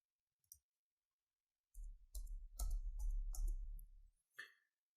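A keyboard spacebar is tapped several times in quick succession while spaces are entered into code, giving short, distinct clicks with a brief pause before the final press.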